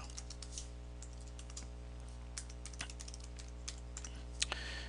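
Steady typing on a computer keyboard at a PC, soft irregular key clicks with a few sharper taps, close and quiet with no talking.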